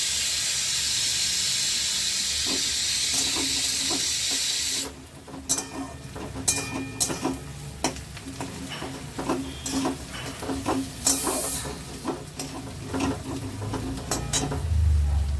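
Onions frying in a pan until browned: a strong steady hiss at first, then quieter sizzling broken by sharp crackles and pops, with low kitchen rumble underneath.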